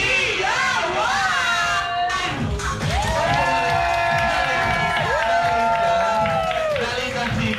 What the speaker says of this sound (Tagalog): Galing ang sigawan